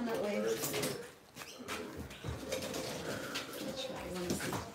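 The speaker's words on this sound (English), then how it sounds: "Hear the birds in the background." Pigeons or doves coo and other birds call in the background of an island setting in Trinidad and Tobago, steady and moderately near, mixed with people talking and household noise.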